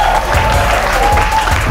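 Brief crowd applause at a basketball dunk contest, a steady wash of clapping with a faint tone and low hum underneath, lasting under two seconds.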